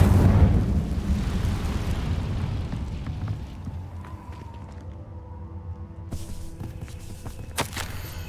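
Fire spell cast in the video game Hogwarts Legacy: a loud whooshing burst of flame at the start that tails off over several seconds, followed by faint scattered clicks and a small pop near the end.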